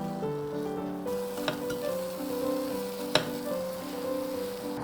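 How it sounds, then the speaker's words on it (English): A spoon stirs choux pastry dough in a pan as the flour cooks, with a soft steady sizzle and a couple of sharp scrapes or knocks against the pan, under instrumental background music. "start stirring immediately to cook the flour and bring it together into a smooth dough"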